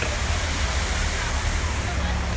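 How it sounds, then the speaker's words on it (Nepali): A waterfall rushes in an unbroken, even wash of white noise, loud and constant throughout with no other sounds standing out. "तपाईँले झर्नाको पानी सुनिराख्नु भएको होला"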